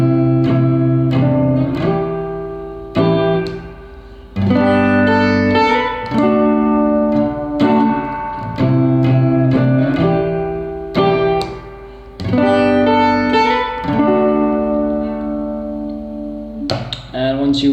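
An acoustic guitar slowly picks the intro of a song, clear plucked notes ringing in repeated phrases with short pauses between them, played up close with no talking.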